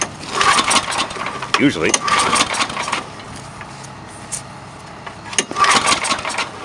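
An old, rusty Chevy 3/4-ton truck engine cranks in several loud, close, churning bursts separated by quieter pauses, with a person speaking briefly.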